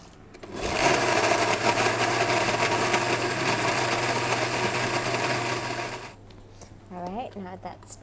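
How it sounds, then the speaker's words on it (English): A loud, steady whirring of a blender running for several seconds, then cutting off, followed by a short stretch of speech. "Pop all of them into the blender"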